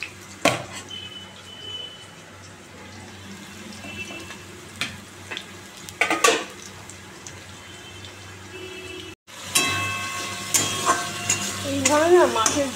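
Chili and nigella seeds fry in a pan for a fish curry, giving a low, continuous sizzle with sharp spatula clicks and stirring scrapes. After a brief cutout the frying turns louder and crackly, with a running tap audible.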